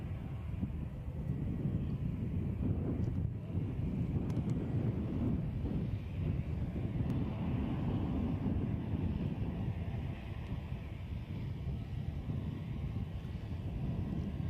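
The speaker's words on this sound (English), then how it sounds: "So there's your 737 working its way towards a takeoff to Lisbon." A Boeing 737 taxis toward takeoff at Edinburgh Airport, heard as a steady distant jet rumble mixed with heavy wind buffeting on the microphone, continuous and fairly faint, with no talk.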